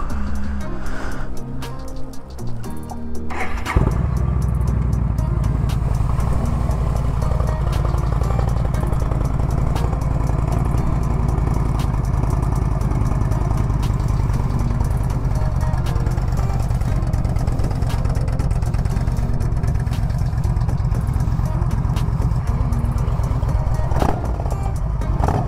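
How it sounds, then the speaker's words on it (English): Yamaha V Star 1300 cruiser motorcycle with Cobra exhaust pipes starts up and settles into a steady, loud, rumbling idle that runs unbroken for most of the span, close by and with no talking. "those Cobra pipes sound great"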